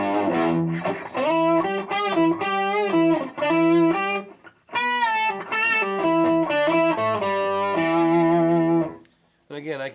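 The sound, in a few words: electric guitar with octave effect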